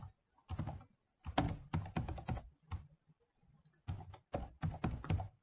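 Python code typed on a computer keyboard: close, clicky keystrokes fall in quick bursts separated by short pauses, with no talk over them.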